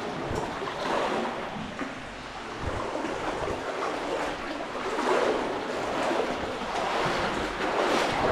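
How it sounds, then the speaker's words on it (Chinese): Water rushes continuously through an underground river cave, a dense, rumbling wash that swells and eases without pause, heard up close with no voices. "这个水流的声音就是从这里发出来的"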